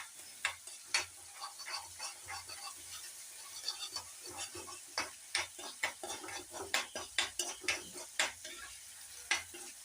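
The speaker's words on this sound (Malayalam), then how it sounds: "അതുപോലെ തന്നെ കുറച്ച് ഉപ്പ്, ഏകദേശം അതിൻ്റെ പച്ചമണം മാറുന്ന വരെ വഴറ്റി" A pan sauté with a pinch of salt: irregular spatula scrapes and clinks against metal repeat over a low, steady frying sizzle, close and fairly quiet.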